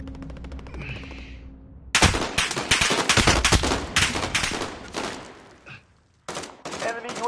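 Sniper gunfire in a video game: loud, dense bursts of rapid shots in two long stretches, separated by a short quiet gap after a softer opening.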